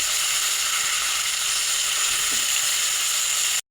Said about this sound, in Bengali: পেঁয়াজ আলু একসঙ্গে দিয়ে লাল করে ভেজে নেব